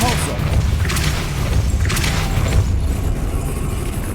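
A Depulso spell is cast in Hogwarts Legacy, landing as a series of heavy booming thumps over a steady low rumble, with a few sharp bursts standing out.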